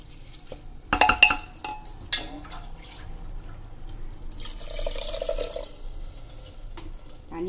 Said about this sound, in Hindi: अब हम इसमें पानी ऐड करेंगे।